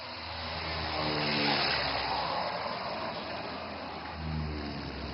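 An Indian Air Force AN-32 transport aircraft touching down and rolling along a highway: a steady, loud engine roar swells, holds, then eases slightly, with no voices.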